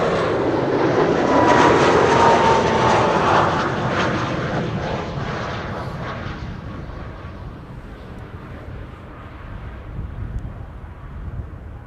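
KLM flight 1828 from Stuttgart descends toward runway 36 right at Amsterdam Schiphol, its engine roar loudest early on and then slowly fading as the airliner passes into the distance.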